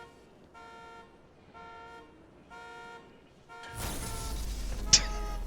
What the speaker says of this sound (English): Why would wonder why that car was honking and lights were flashing?